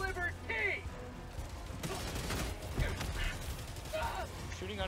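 Gunfire in the Helldivers 2 video game, rapid bursts of shots and impacts crackling through a dense battle mix, with a voice speaking over parts of it.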